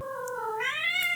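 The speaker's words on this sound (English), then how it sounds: "He's meowing." A single cat meows in one long, rising and falling call, loud and close, with no other sounds around it.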